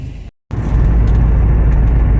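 Volvo 240 running on E85 ethanol, a steady low engine drone heard from inside the car, with a brief dropout before the running sound resumes, close and continuous.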